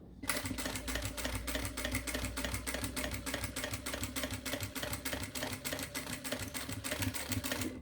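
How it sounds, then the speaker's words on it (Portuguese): A sewing machine runs steadily and loudly, its rapid even needle strokes forming a continuous rhythmic rattle as it stitches the seam of a fabric accordion wallet with a zipper, with no talking over it. "E vou costurar aqui até o final novamente."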